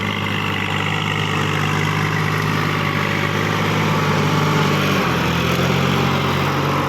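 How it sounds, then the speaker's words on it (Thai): A tractor engine running steadily at 2000 rpm in second gear, a loud close drone with a constant low hum that shifts slightly in pitch near the end. "รอบเครื่องสองพันครับพี่น้อง"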